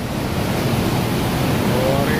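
Water rushing steadily through a main irrigation canal beside its gates on a hot day, a loud, continuous broadband wash heard close up with no pauses.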